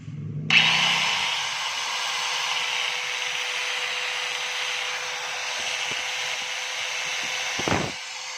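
A DeWalt DW810 4-inch angle grinder, freshly repaired with a new armature, switches on and runs at a steady high-pitched whine for several seconds, loud and close, then spins down near the end with a faint clunk.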